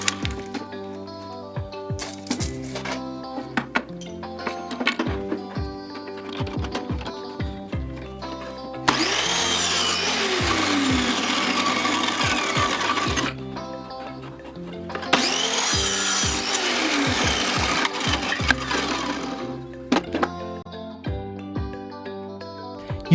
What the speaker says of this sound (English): Using a chop saw, I cut 45-degree angles on both sides of the plank.